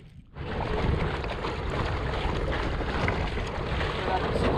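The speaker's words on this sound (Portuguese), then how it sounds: "Olha o catamarã aí" A catamaran out on the water during a fishing expedition at Serra da Mesa, heard as a steady, loud rush of engine, water and wind noise that starts abruptly and fills the whole stretch.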